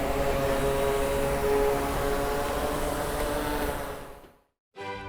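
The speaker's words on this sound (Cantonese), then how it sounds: "呢邊又有隻起飛咯，啱啱裝完餐" A food delivery drone in Shenzhen drones loudly and steadily with a tonal rotor whine, then drops briefly to silence before the hum resumes.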